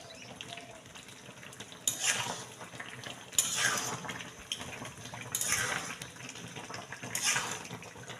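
Jujubes being stirred in a pan while cooking down for a pickle, with soft scraping and clinking of a utensil against the pan in several bursts over a low background hiss.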